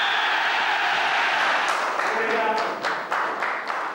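A rugby match crowd applauds in a broad, steady wash that fades a little toward the end, with a voice speaking over it.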